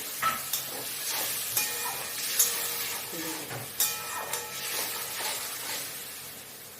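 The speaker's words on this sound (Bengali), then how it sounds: "দেখুন, ঝোল আমার ফুটে উঠেছে।" Potato curry gravy, made with spices for a vegetarian paneer dish, boiling in a pan: soft, steady bubbling and sizzling with small pops, quiet and close, no voices.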